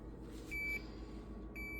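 Two short electronic beeps from a HAVA portable countertop dishwasher signaling low water, evenly spaced about a second apart, over a faint low background hum.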